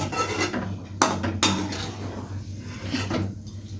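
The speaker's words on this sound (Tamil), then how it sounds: "கிழங்கு நல்லா சேர்த்து கிண்டி விடுங்க" Boiled potato is stirred into masala in a pan for a poori side dish, with a spoon scraping and knocking against the pan in several sharp clatters over a steady low background hum.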